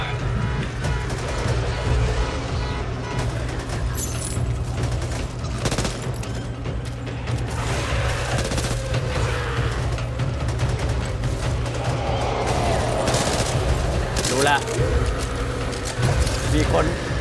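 Continuous gunfire and explosions fill a frantic firefight in the zombie shooter Back 4 Blood, with players shooting at cars amid dense rattling bursts and booms, loud and unbroken under low background noise.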